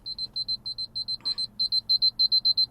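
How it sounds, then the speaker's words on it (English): A work alarm goes off in a steady run of high, electronic double beeps, loud and close, repeating evenly with a brief rustle partway through. "Sorry, that's my work alarm."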